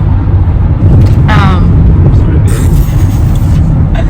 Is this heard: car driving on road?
yes